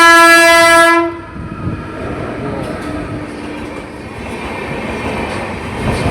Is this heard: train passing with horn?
yes